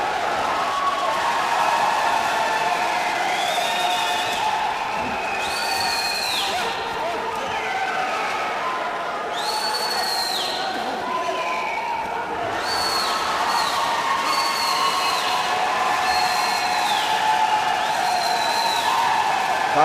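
A boxing crowd at a World Series of Boxing bout between the Indian Tigers and Astana Arlans keeps up a steady, loud roar of cheering and applause with whistles rising above it, and a commentator's voice running through it.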